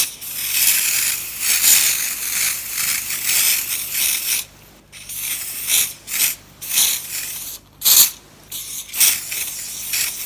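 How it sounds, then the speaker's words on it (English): An aerosol can of spray paint hisses in loud bursts onto a coaster made of lollipop sticks: a long continuous spray, then several short sprays separated by brief pauses. "you could spray your coaster to match your room"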